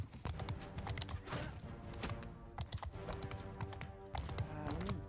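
Horse hooves clip-clop in a steady rhythm while riding in a video game, moderately loud and mixed with clicking keyboard or mouse taps and faint game sounds, with no speech.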